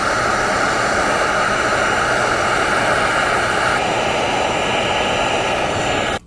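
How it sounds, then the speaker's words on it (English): A heat gun blows a steady, loud broadband roar while shrinking heat shrink tubing over soldered wire connections, continuous and close with no pauses until it cuts off at the very end. "So I'm going to heat shrink these down"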